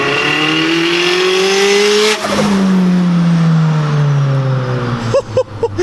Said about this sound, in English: I'll give you a little drive-by so you can just hear the sounds